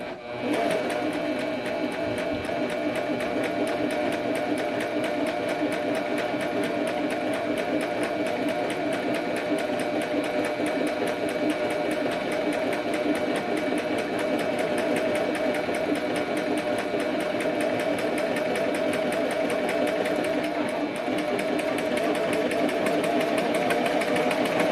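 Pfaff Coverlock 4.0 coverlock machine stitching center front seams, a steady, fast, mechanical whirring hum running continuously and close by for the whole stretch.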